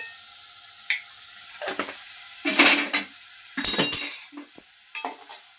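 Spoon clinking and scraping against a pot while turmeric is stirred into rasam, a few short bursts of clatter separated by brief pauses, close by.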